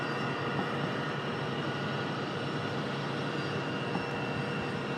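A United Airlines Boeing 737 MAX 8, arriving from Newark at Raleigh-Durham airport, gives a steady broad jet roar at moderate distance that holds evenly throughout with no voices.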